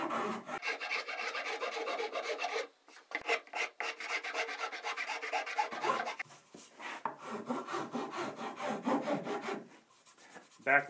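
A rasp or file works the back of a wooden tenor guitar neck, rounding it in steady, close scraping strokes with brief pauses between passes.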